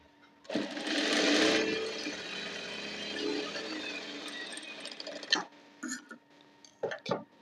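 A sewing machine runs steadily, stitching a Gujarati-style unlined blouse with four tucks and laying down double lines of stitching. The whirring goes on for several seconds, then stops and gives way to a few short clicks and handling noises.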